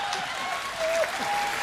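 Audience applause at a Hindi poetry recitation by Priyanshu Gajendra, a short burst of crowd clapping with faint background voices, moderately loud and continuous.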